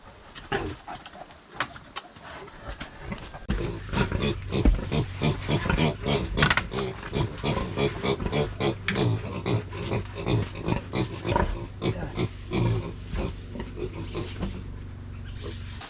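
A boar pig grunts in quick, rhythmic bursts during breeding, close and loud over a low steady hum for most of a sixteen-second stretch, with a quieter start and occasional human voices in the background.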